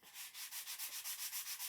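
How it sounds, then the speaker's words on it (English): Balsa wood is sanded by hand while carving a model of US Bank Stadium in Minneapolis, with steady, even back-and-forth strokes in a quick regular rhythm, close and fairly soft, with no talking. "And it's just a matter of just sanding"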